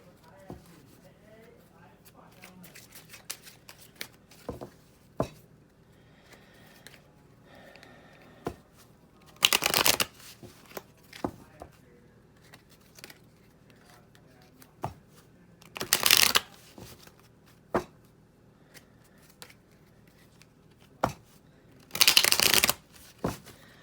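Tarot cards are shuffled close by in several bursts of quick riffling, with small taps and clicks from handling between them, and a voice speaks at times.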